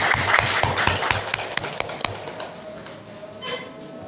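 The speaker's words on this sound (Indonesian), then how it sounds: "Kita berikan tepuk tangan yang luar biasa." Audience applause welcomes a speaker at a talk, with dense clapping that is loud at first and then thins out and fades over about four seconds.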